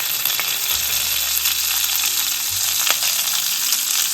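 Urad dal frying in hot coconut oil in a pan, a steady close sizzle with faint scattered pops and no talking.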